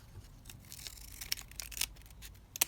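Scissors cutting folded paper pages for a junk journal, a faint run of short crisp snips and rustles spread irregularly over a few seconds, with a sharper cut near the end.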